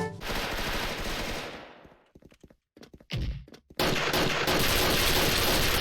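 Gunfire in the shooter video game Special Force: a sustained burst of rapid automatic fire, then a pause of scattered sharp single shots and clicks, then another loud continuous volley.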